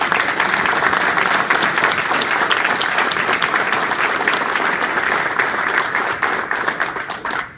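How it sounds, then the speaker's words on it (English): A large crowd at a Ford dealership's celebration of the Mustang's 50th birthday applauds steadily for several seconds, dense clapping that fades slightly at the end. "I think we ought to give the Miller family a round of applause"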